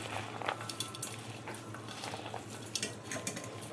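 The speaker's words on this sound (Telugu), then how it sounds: "ఉప్పు ఇవన్నీ వేసేసి ఒకసారి మంచిగా కలిసేలాగా కలిపేసుకో." Leafy vegetables being mixed with salt in a bowl for onion paratha dough, close up with irregular clinks and scrapes of a utensil against the bowl and soft stirring, and no voices.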